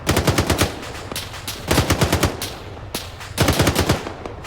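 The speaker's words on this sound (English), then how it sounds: "it's the HMG" Heavy machine gun fire in Arma 3, loud sustained bursts of rapid shots in three clear volleys separated by short pauses, with no talking over it.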